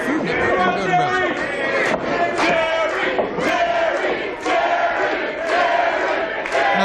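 A wrestling crowd chants Jerry in a loud, rhythmic, repeated call, many voices together in a big arena, with commentary voices mixed in over the chanting.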